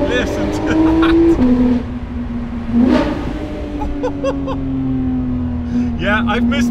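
A Porsche GT3 RS engine revs up in a tunnel, drops with a gear change, then pulls again at a steady drone; a person talks intermittently over the loud car noise.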